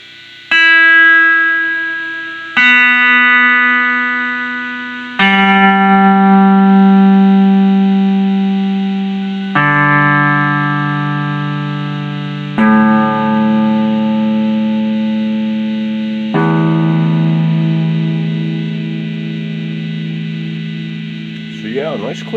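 An electric guitar played through an amplifier at half volume with the tone controls all the way up, ringing out a series of seven clean, sustained notes or chords, each struck sharply and left to decay before the next.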